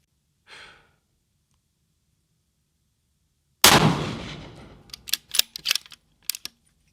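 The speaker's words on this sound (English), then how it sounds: "Once we shoot these 10 unsuppressed, we'll let this rifle cool." A single loud unsuppressed precision rifle shot with a muzzle brake, a sharp crack followed by a decaying echo, then a quick series of small mechanical clicks, preceded by a faint breath.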